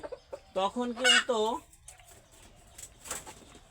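Country chickens on a farm, a mother hen roaming with her chick, giving a short burst of close clucking calls followed by quieter scattered clucks and faint chirps.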